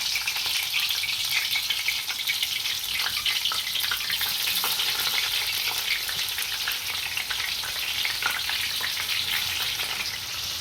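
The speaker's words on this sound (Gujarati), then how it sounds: "આનો કલર બદલે ત્યાં સુધી તળી નાખશું આપણે" Pieces of bitter gourd (karela) frying in oil in a home kitchen, a steady dense sizzle that keeps going alone without pause or talk.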